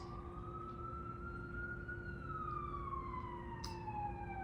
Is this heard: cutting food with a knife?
no